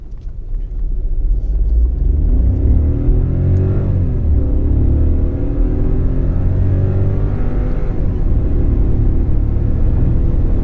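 A Skoda Rapid in drive mode rather than sport mode accelerates hard from a standstill, its engine rumbling and rising steadily in pitch, loud and continuous from start to finish.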